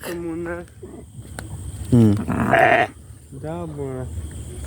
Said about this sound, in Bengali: হ্যাঁ, এই ছাগলটা